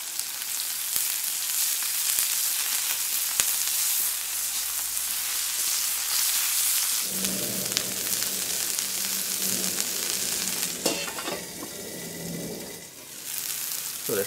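Asparagus sizzles steadily on a hot griddle plate, a constant close frying hiss, with scraping and clatter from turning the spears partway through, then the sizzle continues.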